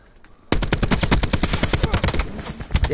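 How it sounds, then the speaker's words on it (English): Rapid automatic gunfire in a PS4 shooter game starts abruptly and keeps going as a loud, dense burst of shots with no speech. "That dude's shooting this way."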